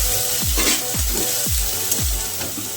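Fish seasoned with salt sizzles in a frying pan for a Bengali fish curry, with a spatula scraping through it in regular strokes about twice a second over a constant frying hiss.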